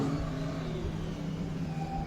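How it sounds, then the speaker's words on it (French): A motorcycle engine droning steadily as it slows during a stunt, a continuous low mechanical hum with road noise and no distinct revving peaks. "Alors, à force de ralentir cette moto,"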